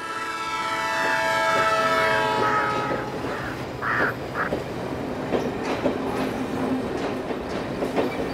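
A train runs along its rails at a station, its wagons clattering steadily close by, with a long tonal horn-like wail over the first few seconds and scattered clicks and knocks after.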